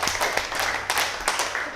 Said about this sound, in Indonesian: saya ingin kalian tepuk tangan untuk kalian semua dulu